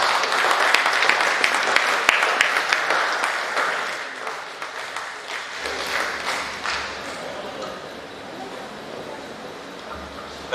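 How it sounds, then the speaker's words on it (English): A conference audience at a university life sciences research event breaks into applause, strong clapping at first that gradually thins and fades, with faint voices underneath. "Please, another round of applause."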